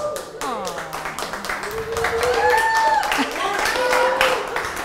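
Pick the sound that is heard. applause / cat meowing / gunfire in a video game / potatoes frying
applause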